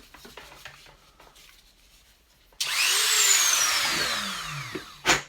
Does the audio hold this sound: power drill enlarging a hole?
yes